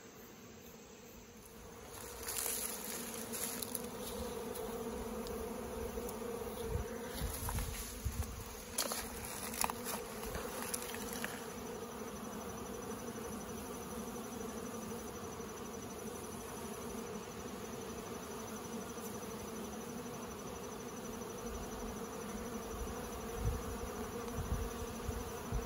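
Honeybees buzz steadily around a hive being treated for mites with an oxalic acid vaporizer wand. The drone is dense and continuous, close by and moderately loud, with brief knocks and rustles early on.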